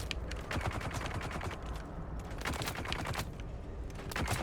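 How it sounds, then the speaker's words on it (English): Dense, continuous gunfire in the video game Dune: Awakening, with rapid overlapping shots forming a loud, steady fusillade throughout with no talk. "Oh, I'm getting shot."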